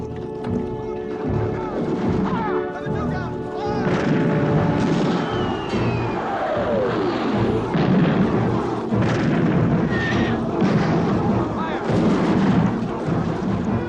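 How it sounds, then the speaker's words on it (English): Heavy artillery fire in a film battle scene, colonial guns laying covering fire, with deep booming blasts and rumble that run on continuously and loudly under a dense battle soundtrack with shouting and music-like tones. "Can you give me some covering fire for Durnford on the right flank?"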